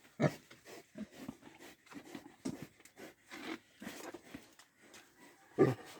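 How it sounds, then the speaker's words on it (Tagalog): A pregnant pig close to giving birth grunts and snorts repeatedly at close range, low rough sounds in an uneven rhythm with a few louder snuffles. "Pero mabait yan baboy namin"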